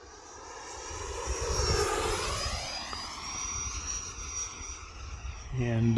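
An E-flite F-16 Falcon 80mm electric ducted-fan RC jet whines overhead in flight, its pitch rising and falling as it passes and rolls. The tone stays steady and fairly close, with a voice talking over it.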